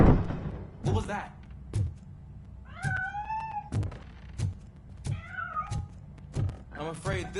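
A cat meows in the RoboCop: Rogue City video game, two clear rising-falling meows between repeated heavy thumping footsteps over a low background drone.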